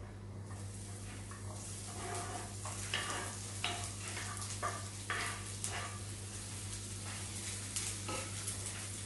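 Chopped garlic dropped into hot oil in a pan, a steady soft sizzle and crackle with occasional brighter pops, close and continuous without talk.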